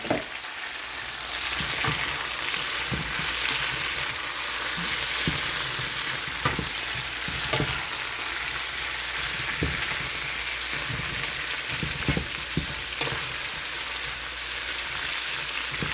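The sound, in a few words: frying orange sweet peppers and Roma tomatoes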